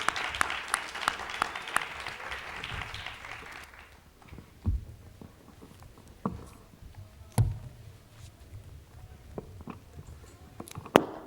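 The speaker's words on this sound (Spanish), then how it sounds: "Recibamos con un fuerte aplauso a la doctora Blanca Castilla" An audience applauds to welcome a lecturer, Dr. Blanca Castilla, at a talk on the anthropology of love; dense clapping for about four seconds fades into scattered claps and room noise.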